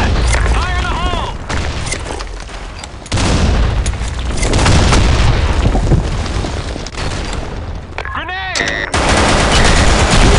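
Grenade blasts and gunfire in the online shooter BlackShot: loud booms and bursts of shots over a dense, continuous din, with brief voiced game callouts near the start and near the end.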